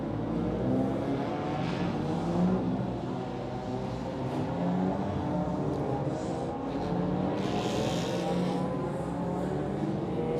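Race cars accelerating through a preliminary XL Cup race at Queensland Raceway, a continuous broad engine roar that stays loud and steady, blending several motors at a distance with no pauses.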